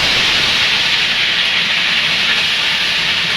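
Onion, garlic and ginger paste sizzling in hot oil in a kadai, a loud, steady bright hiss that holds unbroken throughout with no voices.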